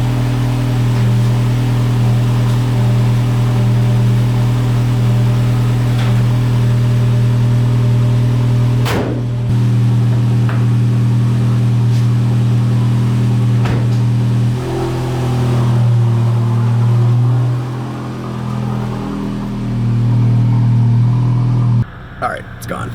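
A VW Golf GTI Mk8 with a Stage 1 crackle tune idles steadily nearby, its low, even engine hum running throughout, with a brief sharp click partway through and a sudden drop near the end.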